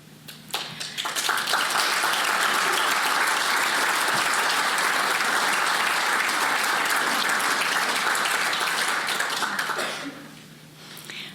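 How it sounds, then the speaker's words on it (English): A crowd applauds in a hall, dense sustained clapping that swells quickly, holds steady and loud for several seconds, then fades out near the end. "I'm watching little possum clap hands for me here."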